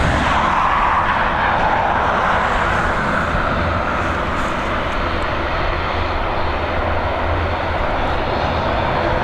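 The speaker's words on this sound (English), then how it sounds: "FR 5556 coming in from Tenerife, this Boeing 737" Ryanair-flown Boeing 737 arriving from Tenerife and landing on runway 28L at Dublin Airport, a loud sustained jet engine roar that stays strong throughout, with no talking.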